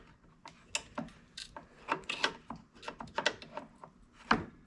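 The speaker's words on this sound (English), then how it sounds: "to actually take this valve cover off, you're going to want a nice long flathead screwdriver just to get some leverage up in there" A long flathead screwdriver pries at the valve cover of a Honda HRN216 lawn mower, making close, irregular metallic clicks, scrapes and knocks in uneven bursts.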